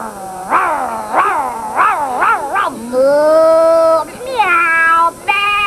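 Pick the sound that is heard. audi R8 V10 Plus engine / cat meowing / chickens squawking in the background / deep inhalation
cat meowing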